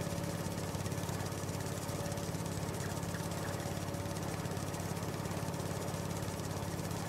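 A tractor engine in Farming Simulator 19 runs at a steady, even drone with a constant low hum, unbroken and without talk.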